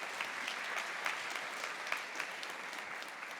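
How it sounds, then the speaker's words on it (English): Audience applause at a PyData Amsterdam 2024 conference lightning talk session, a steady dense round of clapping from a seated crowd, even and sustained throughout with no talking. "Big applause."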